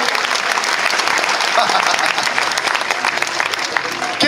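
Sustained applause from a crowd at an award evening for rugby player Benjamin Urdapilleta, a thick, even wash of clapping that stays loud throughout without a break.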